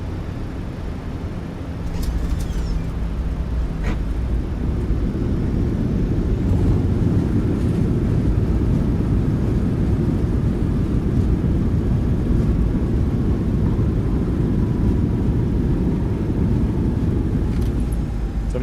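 An airliner in a flight simulator rolls out on the runway after landing, with a loud, steady roar of reverse thrust that swells after a couple of seconds and holds without letup.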